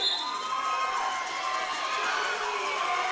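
Junior roller derby crowd at a championship game in Loveland, Colorado roaring and cheering continuously, a dense wash of shouting voices with children's yells, close and loud throughout.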